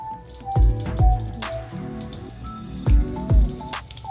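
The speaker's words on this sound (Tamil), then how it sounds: "கடுகு பொரியட்டும்." Mustard seeds spluttering in hot oil while tempering for thalicha idly, with a handful of sharp close pops and splats scattered over a low frying hiss.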